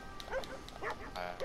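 A dog in Grand Theft Auto V gives several quick, faint barks in a short burst.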